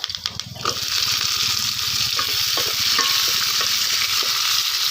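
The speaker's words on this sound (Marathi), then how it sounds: "मिश्रण आहे ना आपल्याला चांगला भाजून घ्यायचे" A tomato masala mixture with curry leaves being roasted in a pan for a village-style mutton biryani, a steady loud sizzle with repeated scraping and stirring strokes, no talking.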